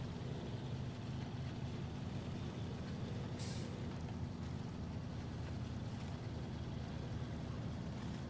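Steady, loud low rumble of a truck engine labouring in the SnowRunner game, a constant droning roar with a brief hissing burst midway, no talking.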